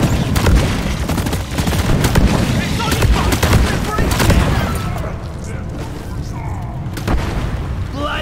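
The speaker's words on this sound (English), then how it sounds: "Sentry gun needs assembly." Dense automated sentry gun fire in Deep Rock Galactic, loud and continuous, mixed with booming impacts and other combat noise, with a character voice speaking over part of it.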